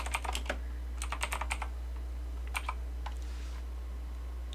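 Code is typed on a computer keyboard in quick clustered bursts of crisp key clicks, close and fairly clear, separated by short pauses over a low steady hum.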